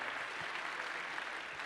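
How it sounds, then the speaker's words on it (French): An audience at a plenary session of a business summer university applauds steadily, a dense, even wash of many hands clapping at a distance with no voices over it. "applaudissons tous ceux qui participent à la réussite de cet événement"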